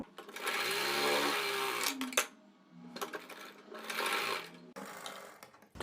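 A sewing machine stitching a blouse seam with a half-inch margin, running in close, loud bursts of rapid needle clatter separated by short pauses and a few clicks as the fabric is repositioned.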